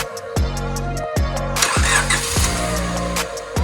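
A Honda Civic Type R EK9 with a stock engine cranks in several loud, rhythmic starter bursts close by, then catches and fires into a rough, rising idle with sharp revs.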